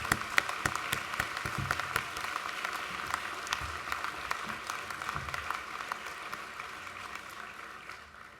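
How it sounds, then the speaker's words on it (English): Audience applause at a university business school's distinguished alumnus award ceremony, sustained and moderately distant, with scattered sharp claps over a steady wash that fades slightly near the end. "let's give them a round of applause to show them the thanks for being here on this important day"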